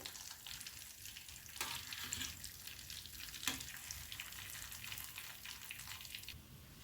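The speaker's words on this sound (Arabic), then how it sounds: "خلاص يا جماعة، انتهينا من القلي بتاعهم" Food fries in oil with a soft, steady sizzle and crackle, quiet and close, with a couple of brief stirring clatters and no talking.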